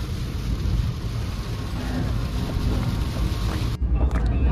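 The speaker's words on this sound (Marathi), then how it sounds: "पाऊस एवढं तुफान गावलो हा की पुढचा काय तसा दिसता नाही व्यवस्थित" Heavy monsoon rain pounding a moving vehicle on a hilly road near Karad, a dense loud roar with wind buffeting that drops away abruptly near the end.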